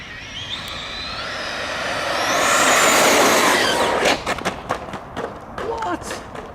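A PD Racing TK10 4S RC monster truck screams past at high speed, its electric motor whine swelling to a loud peak then fading, followed by scattered knocks and bumps as it brakes and lands, with people talking around it.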